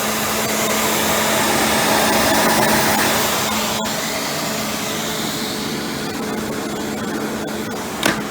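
A Rainbow D4c water-filter vacuum cleaner with a power brush attachment runs steadily, a loud continuous motor whine and airflow hum with a brief click near the end, no voices.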